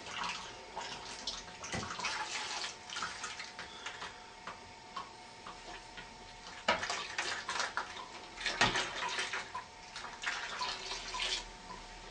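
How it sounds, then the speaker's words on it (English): Water poured by the pint into a bin of crushed elderberries and blackberries for home winemaking, a continuous splashing pour with stronger surges along the way and no talk. "we shall now add 5 pints of water and 1 crushed Camden tablet"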